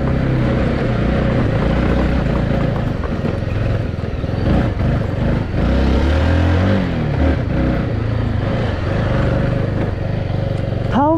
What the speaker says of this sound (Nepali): डट बाइक चाहिँ भावै सरी रमाइलो हुन्छ